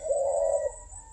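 A spotted dove cooing in its cage, a single soft, low, drawn-out coo that fades after about half a second, close and clear.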